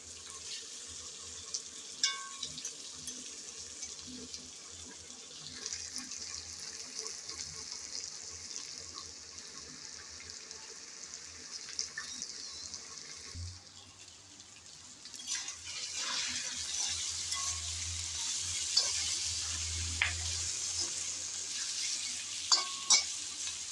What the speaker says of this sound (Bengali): চিংড়ি দেওয়ার পর কিছুক্ষণ নেড়ে চেড়ে ভালোভাবে কষিয়ে নিলাম।